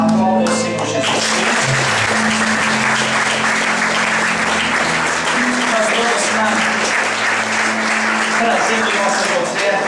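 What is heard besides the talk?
congregation applauding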